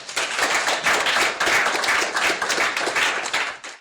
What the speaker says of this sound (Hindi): जोरदार तालियों से मंच पर स्वागत करती हूँ।